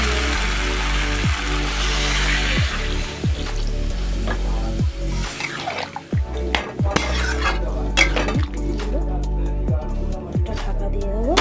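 Meat curry sizzles loudly in a frying pan as water is poured in, a steady hiss broken by repeated scraping strokes of a spoon against the pan, close and continuous without talk.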